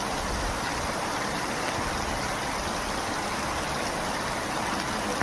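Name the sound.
rainwater flowing through village courtyard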